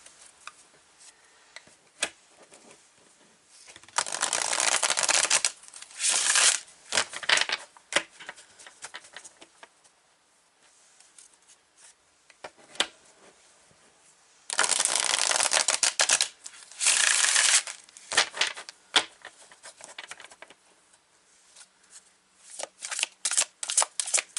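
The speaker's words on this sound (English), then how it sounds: "So let's take from Mike Dooley's card" A Notes from the Universe card deck being shuffled in several bursts of dense, crisp riffling, each lasting a few seconds, with quieter handling and soft card taps between them, close and alone with no talking.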